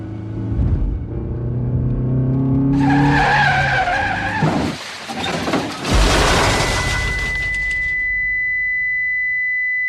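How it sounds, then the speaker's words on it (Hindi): A car swings sharply toward a cliff-edge lookout as its tires skid and squeal over a rumbling engine rev, then a harsh rush of noise and a lingering high whine follow in a dramatic sound effect. "विनय ने गाड़ी सुसाइड पॉइंट की ओर घुमाई"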